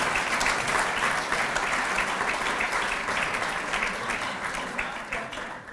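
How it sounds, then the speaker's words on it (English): A full room applauds assistant coaches and their spouses at a college athletics awards ceremony, steady dense clapping from many hands that holds strong and eases slightly near the end. "Let's get a round of applause for our assistant coaches and spouses."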